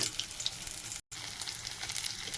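Loud, dense crackling sizzle of fritters frying in hot oil, steady and close, with a split-second break in the middle.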